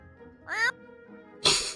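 A person imitates a cat with a short, rising vocal meow, followed a moment later by a louder, breathy burst; both are close and fairly faint, with quiet gaps between.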